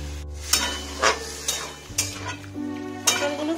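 Pointed gourd (potol) frying in a pan, with a steady sizzle under several sharp stirring scrapes and clatters spaced about half a second apart.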